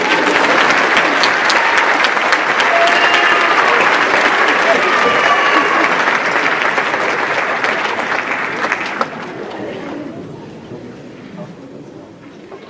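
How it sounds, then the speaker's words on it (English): A graduation ceremony crowd breaks into loud, dense applause with some cheering voices mixed in, holding steady for several seconds before thinning and tapering off toward the end. "You can clap now."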